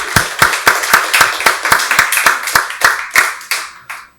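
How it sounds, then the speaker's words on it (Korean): A church congregation claps in unison during a Sunday worship service, about fifteen sharp, evenly spaced claps over four seconds, loud and close, slowing slightly and fading at the end. "박수로 하나님께 영광 돌리겠습니다."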